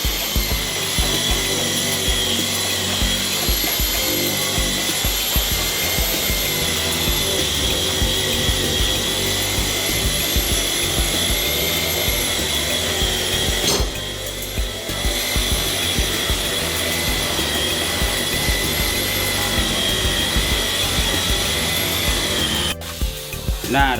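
A power polishing machine buffs the headlamp lens of a Suzuki car, a loud continuous close-up grinding whine with steady rubbing texture, briefly dipping twice before resuming.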